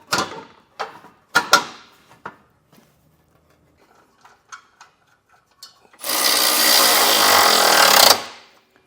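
Tightening bumper hardware on a 2016 Kia Soul during a base plate installation: scattered metallic clanks and taps, then a loud sustained power-tool burst lasting about two seconds, close by.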